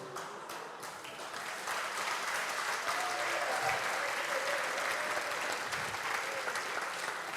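A church congregation breaks into sustained applause, steady and fairly loud, filling the room with dense clapping.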